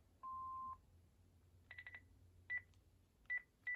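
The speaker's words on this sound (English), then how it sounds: "Please leave your name and phone number after the beep." Electronic tones from a Panasonic KX-TG6841 cordless phone answering machine: one long steady beep, then a quick cluster of short higher pips and a few more single pips spaced apart, clear and close with no talk.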